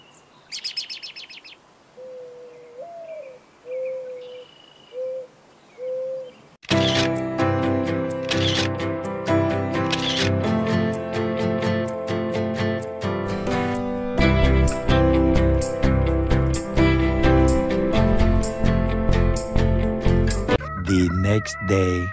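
Recorded bird calls and chirps play back, then a loud rooster crow and dense, layered bird and music-like sounds fill the rest, close and continuous.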